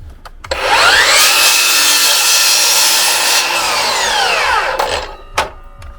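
A power saw cuts through a padouk decking board, a loud steady whining rasp lasting about four seconds between brief motor spin-up and wind-down, close and without talk.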